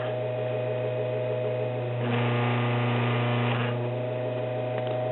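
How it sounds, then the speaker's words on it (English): Electric motor of a 1947-48 GE Vortalex oscillating fan running steadily, a close, constant hum with a faint mechanical whir that swells briefly midway. "I just want to see if the motor will run"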